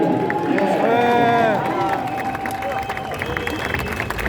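A crowd gathered at the Le Mans 24 Hours podium applauds the mechanics as steady massed clapping and cheering, mixed with chatter and loud amplified voices, with a whistle-like tone rising over the hubbub early on.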